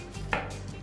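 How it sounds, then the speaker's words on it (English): A knife strikes a cutting board once while slicing shallots into small pieces, a single close, crisp chop within a brief quiet moment. "So I just cut this in small pieces"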